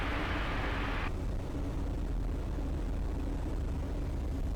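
A Eurofox microlight aircraft's engine is throttled back on a flapless powered approach. A steady low drone and airy hiss lose their brighter roar after about a second, leaving a softer rumble.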